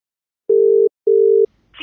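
A telephone answering machine sounds two steady electronic beeps of equal length before the message begins, then a faint breath or voice starts.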